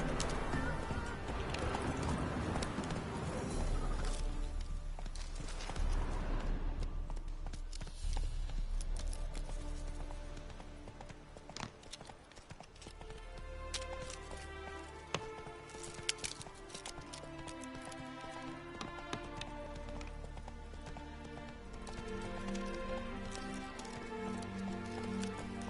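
The horse Roach galloping in the Witcher 3 video game, hoofbeats pattering steadily at a moderate distance under game music for the whole stretch.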